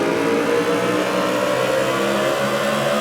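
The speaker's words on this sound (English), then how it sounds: "BMW M3 E92 Beauty is powered by 4-liter naturally aspirated screamer that revs past" A BMW M3 E92 with a 4-liter naturally aspirated V8 that revs past 8,000 RPM, in the racing game Forza Horizon 4: a steady, dense engine roar holds at a constant loud level, with no voice over it.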